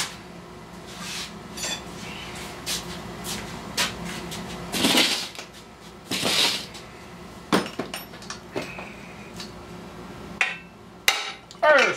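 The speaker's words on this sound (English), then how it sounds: "Then I'm gonna wrap it with a hammer on there." Sharp metallic clanks and taps ring out irregularly, some louder strikes among lighter knocks, as a hammer hits a metal part of a 2004 Johnson 30 hp outboard motor nearby.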